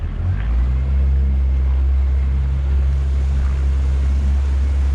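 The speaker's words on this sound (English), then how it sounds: "So now we're actually sailing with the waves." A 16-foot boat's engine drones low and steady on a lake while water rushes past the hull, wind and wave noise blending into a constant close roar.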